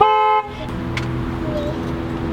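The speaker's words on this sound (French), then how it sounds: "Il a fait Le klaxon" A car horn sounds a steady, loud toot at the start, then cuts off, leaving a quieter rumble of vehicle and background noise.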